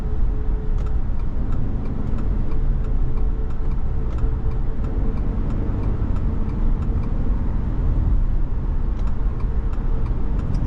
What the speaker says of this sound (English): with this turbo engine, effortless power in this vehicle to get it up to speed